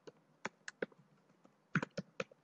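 Computer keyboard keys typed in short irregular bursts while writing C++ stack code, crisp close clicks in two quick clusters with a brief pause between, quiet room and no voices.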